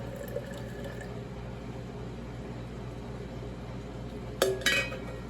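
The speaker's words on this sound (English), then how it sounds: "Greg found this syringe for me. We're just going to fill up our jars." Serrano pepper sauce is pushed from a syringe into jars against a steady low background hum, closing with a couple of sharp glass clinks and clatter near the end and no talk.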